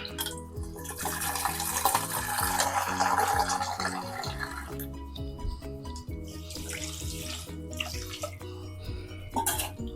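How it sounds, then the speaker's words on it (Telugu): Water streams steadily into a metal pan, the pitch of the pour shifting as it fills, with some background music running underneath. "ఇప్పుడు ఇందులో కొంచెం వాటర్ వేసుకుందాం"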